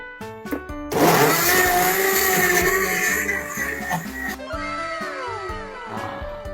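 A blender blending a mango shake with ice whirs loudly with a gritty, churning roar that shifts in pitch as the motor strains against the ice, then winds down.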